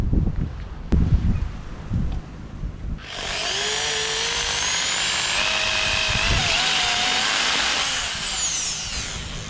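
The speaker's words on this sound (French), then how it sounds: "j'ai mis une mèche pour percer le métal, c'est un diamètre 6" An electric drill fitted with a 6 mm bit bores through metal fence material, starting abruptly after a few quiet knocks and holding a loud, steady high whine with slight pitch shifts until the end.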